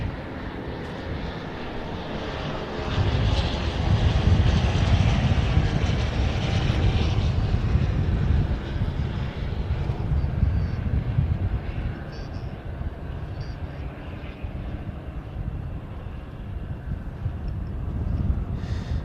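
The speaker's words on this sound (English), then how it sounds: "So the aircraft in that formation, one LP Aviation Pioneer 200, one ASSO Airy X, another LP Aviation Pioneer 200, a Tecnam P92, a Pioneer 300" Formation of light propeller aircraft, including LP Aviation Pioneer 200s, an ASSO Airy X, a Tecnam P92 and a Pioneer 300, flying over an air show, a broad rumbling engine drone that swells and stays loud throughout.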